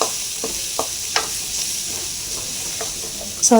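Masala paste, kuzhambu powder and green chillies sauté in a pan for chana masala, a soft steady sizzle broken by a few scraping stirs, ending in a louder clatter, up close, with no talking.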